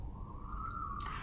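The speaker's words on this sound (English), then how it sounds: "Sorry about that siren." A siren passing outside, heard as a single steady wailing tone held through a short stretch over low background rumble, with a faint higher chirp near the end.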